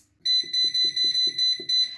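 An air fryer beeps at the end of a cooking cycle, giving seven loud, evenly spaced electronic beeps in a quick run, close up, with no talking over them.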